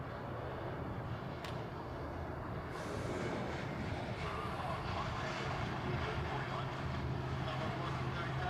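Jetstar airliner jet engines at Honolulu airport, a steady distant roar that grows slightly stronger, with voices talking over it.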